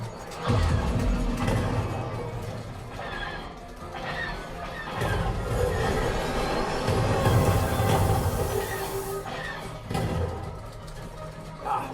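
A train rumbles past over a dense, roaring mechanical din on the Millennium Falcon: Smugglers Run ride, with rising hiss and brief metallic squeals; no clear speech.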